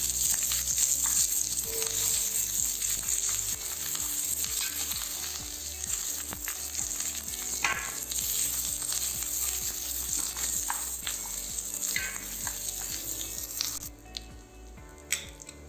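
Onions sauté in oil in a heavy-bottomed pan, a steady loud sizzle with occasional stirring scrapes, continuing alone for several seconds before easing toward the end.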